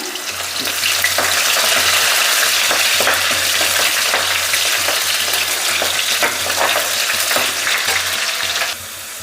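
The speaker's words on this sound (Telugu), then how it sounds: "సన్నగా కట్ చేసుకున్న ఎర్రగడ్డ అయితే వేసుకుందాం అందులోకి కరివేపాకు వేసుకుందాం" Thinly sliced red onions and curry leaves sizzle in hot oil in a village kitchen, a loud steady frying hiss with occasional stirring scrapes that runs nearly continuously before cutting off near the end.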